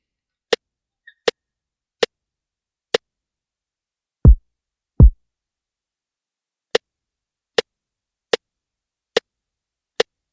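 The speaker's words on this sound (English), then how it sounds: "finding a good snare and then layering it with a hi-hat." A layered drum-machine snare and hi-hat built in FL Studio for Bongo Flava drums: isolated crisp, dry ticks spaced roughly evenly, with two deeper, thumping hits partway through, loud and alone with no talk.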